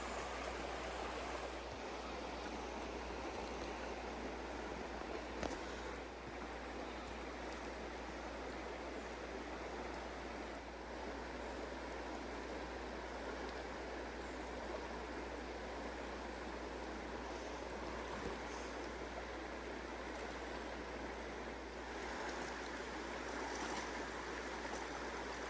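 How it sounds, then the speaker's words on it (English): Mountain river on the John Muir Trail that must be crossed to reach a hot spring, a steady, even rush of flowing water heard nearby without pause, with a few faint knocks. "to get to the hot spring, you have to cross the river."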